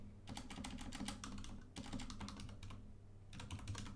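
Rapid typing on a computer keyboard while a new project folder gets named, with dense bursts of clicking keys split by two short pauses, close and steady, with no voices.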